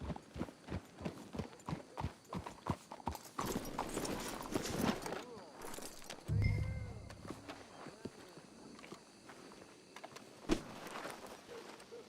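Horse hooves clip-clop steadily in Red Dead Redemption 2, a run of close, rhythmic hoofbeats that slows and fades, with voices talking over the hoofbeats and a brief whinny-like sound.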